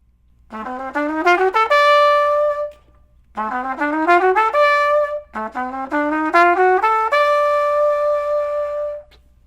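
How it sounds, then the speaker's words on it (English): A jazz lick on the whole-half diminished scale from concert A climbs and descends in three separate phrases, each ending on a held note, played cleanly with short pauses between. "we're going to play that whole half diminished scale that starts on concert A."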